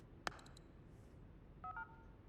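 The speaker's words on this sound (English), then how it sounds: "if we collect up that mobile phone, we are able to ring Francesca" A mobile phone is dialed in the stealth video game Hitman 3: a sharp tap, then a few quick keypad tones, followed by soft electronic dialing beeps, all faint and isolated.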